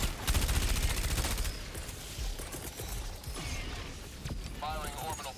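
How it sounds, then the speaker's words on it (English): An orbital barrage in a video game opens with a loud, rapid burst of mechanical firing and clatter. Quieter creaks, clicks and game effects follow, with a voice speaking over the sounds. "Firing orbital barrage."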